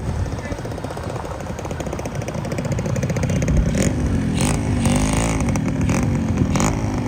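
A Yamaha motorcycle rides ahead in a wedding procession on the way to a church, its engine droning loud and close and rising in revs, with scattered clatter.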